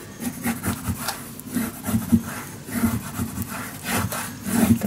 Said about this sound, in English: And then burnish it down.